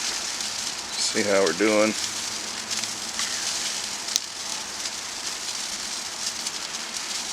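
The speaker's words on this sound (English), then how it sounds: "it is raining out here" Rain falls steadily outdoors around a smoker grill, a soft continuous hiss across the whole stretch, with one brief voice speaking early and a faint click midway.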